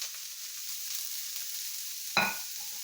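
Broccoli stir-frying in a pan makes a quiet, even sizzle, then a sudden brighter burst of hiss and a clink partway through, with no voices.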